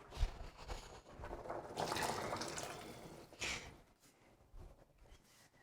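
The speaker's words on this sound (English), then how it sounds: "we're gonna add more water into the soup" Water is poured into a pot of black bean soup, giving a faint splashing and trickling pour that swells, eases off and then trails into soft drips.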